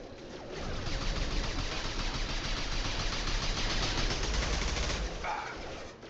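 Sustained automatic gunfire rattles through a Mass Effect 2 combat scene, a continuous loud stream of rapid shots for about five seconds before cutting off abruptly into a quieter tail.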